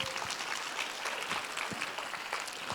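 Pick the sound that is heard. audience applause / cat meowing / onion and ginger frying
audience applause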